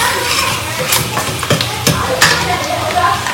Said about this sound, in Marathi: तर आता आधी कांदा मस्त तळून घ्यायचा छानपैकी